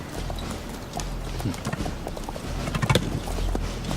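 Horse hooves clip-clop in an uneven trot, moderately close, the hoofbeats growing a little louder and denser toward the end over a low background rumble.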